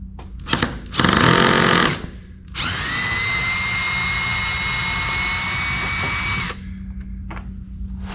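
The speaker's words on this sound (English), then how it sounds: "These electric drills with the clutch are very nice for this kind of thing." An electric drill with an adjustable clutch backs bronze screws out of a wooden boat: a brief loud burst, then a steady, high motor whine held for about four seconds before stopping, close up and with no talk.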